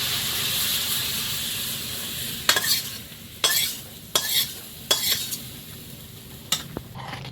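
Spice masala frying in a pan for khichuri, with a steady sizzle under a handful of sharp spoon scrapes and stirs against the metal, spaced a second or so apart.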